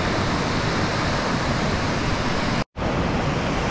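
A waterfall on the trek to Tilicho Lake roars as a continuous, loud broadband rush. The sound holds steady with only a momentary cut near the end, and no one speaks over it.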